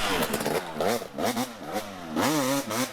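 A KTM enduro motorcycle at a national enduro in Westpoint, Tennessee revs hard in repeated rising bursts, loud and close, as it accelerates through a corner.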